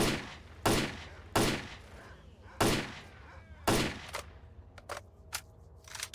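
Gunshots in the S.T.A.L.K.E.R. Clear Sky shooter game, five loud separate shots at uneven intervals with echoing tails, then a quicker cluster of fainter cracks.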